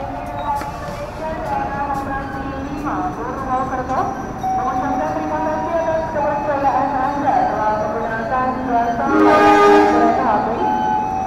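The Taksaka passenger train pulls into Purwokerto station with a steady rolling rumble and squealing tones, and a horn or whistle sounds near the end. People talk beneath it.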